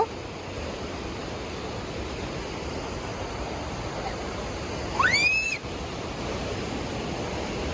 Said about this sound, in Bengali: পাহাড়ের মাঝখানে ঝর্ণা থেকে নদীর সৃষ্টি হয়েছে পানির পরিমাণটাও অনেক বেশি